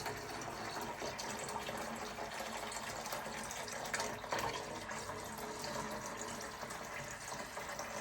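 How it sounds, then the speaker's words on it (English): A steady stream of tap water runs into a container, a continuous, even rushing splash at moderate level with no break for several seconds. "More water coming right up."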